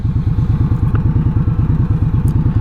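A motorcycle engine idles or runs steadily up close, a fast, even low-pitched pulsing throb that continues without a break and has no talk over it.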